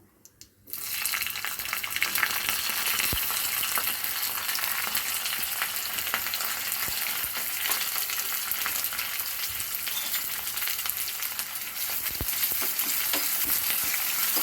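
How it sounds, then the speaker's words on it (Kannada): Onion, curry leaves and dry red chillies fry in hot oil with mustard seeds for a vegetable dal tempering, giving a loud, constant sizzle with occasional stirring clinks close by. "ಚೆನ್ನಾಗಿ ಫ್ರೈ ಮಾಡ್ಕೊಳ್ಳೋಣ."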